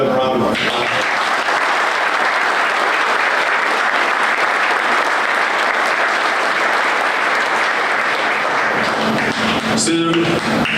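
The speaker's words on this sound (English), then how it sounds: "We give all 3 of them a round of applause." Loud, sustained audience applause at a soccer club brand unveiling event, dense and steady for about ten seconds before tapering off, with a voice briefly audible near the end.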